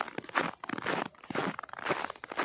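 Snow crunching underfoot on a frosty day, a few quick crisp steps in close succession, near and clear with no talking.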